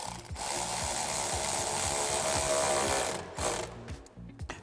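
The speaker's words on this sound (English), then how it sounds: "I'm going to take my 7mm on my ratchet, and I'm going to tighten up this clamp right here" A 7mm socket on a hand ratchet tightens a hose clamp on a cold air intake in an L Bronco, giving steady, rapid pawl clicks up close for about three seconds, then a few slower separate clicks.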